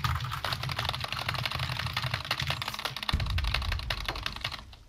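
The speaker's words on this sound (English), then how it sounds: "It sounds like you're the average player that game spamming their keyboard." A computer keyboard being hammered rapidly and continuously, a dense stream of close, loud key clicks with no pauses, alongside a PC game session.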